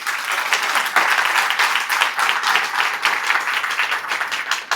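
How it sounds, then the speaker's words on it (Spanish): Church congregation applauding during an evangelical service, a dense, steady wash of many hands clapping for several seconds, moderately loud and sustained without speech. "Denle un fuerte aplauso al Señor."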